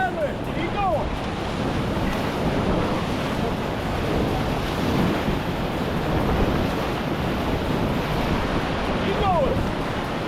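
Rushing whitewater of river rapids in West Virginia while a raft crew paddles through, a steady loud roar with wind buffeting the microphone throughout.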